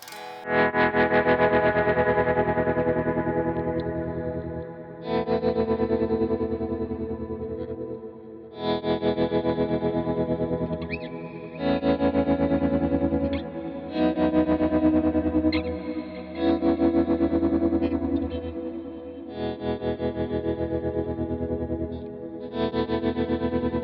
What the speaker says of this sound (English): This is just ramping the tremolo speed, because I think that's a fun sound.